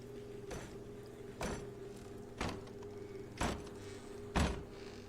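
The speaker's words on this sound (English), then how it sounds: "Stop slamming the door, Callum!" A door slams over and over in The Park horror video game: five heavy bangs about a second apart, each a sharp thud over a low, steady ambient hum, with no voices.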